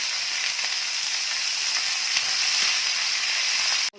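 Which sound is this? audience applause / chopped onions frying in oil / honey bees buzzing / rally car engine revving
chopped onions frying in oil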